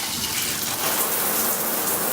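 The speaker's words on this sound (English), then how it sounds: "I'm gonna go ahead and get in the shower" A shower runs steadily at home, a dense close hiss of falling water with no pauses and no voices.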